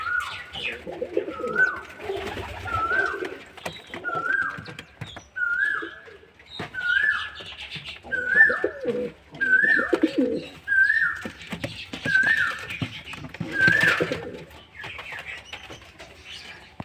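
Pigeons kept in a loft give a steady series of about a dozen rising coos at an even rhythm, clear and close, with quieter shuffling and murmured bird sounds between calls.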